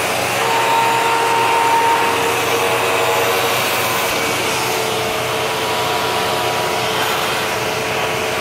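A Hoover twin chamber vacuum cleaner runs with its hose attached, a loud, close, steady whooshing drone with a thin motor whine throughout and no talking.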